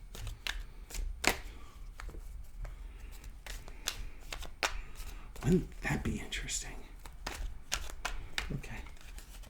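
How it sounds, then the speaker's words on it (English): Tarot cards are shuffled in quick, uneven bursts of sharp riffling and slapping close by, while a person talks quietly over them. "This is a horrible shuffling job"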